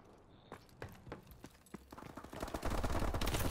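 Rapid bursts of automatic fire from a deployable sentry gun in Call of Duty: Advanced Warfare, starting as scattered shots and building into a dense, loud stream of gunfire toward the end.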